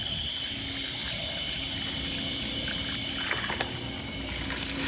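A garden hose runs steadily into a container for a spraying job, producing a continuous loud rush and trickle of water with no voices, ending in a few faint clinks.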